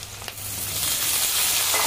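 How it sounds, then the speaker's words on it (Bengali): Boiled jackfruit and potato pieces drop into hot oil in a pan: a brief clatter, then a loud, swelling sizzle that holds steady and close. "দিয়ে দিচ্ছি সেদ্ধ করা এঁচোড়া আলু,"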